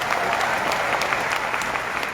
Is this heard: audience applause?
yes